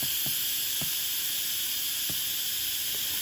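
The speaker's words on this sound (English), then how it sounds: "So now I'm releasing my steam and letting that release so that I can safely open my Instant Pot." An Instant Pot cooking chicken and rice vents steam in a continuous loud hiss, steady throughout, with a few faint soft knocks beneath.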